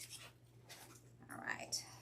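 Scissors snip through wrapping paper on a handmade faux Christmas present, several short, soft cuts and paper rustles close by, with faint whispery sounds between them.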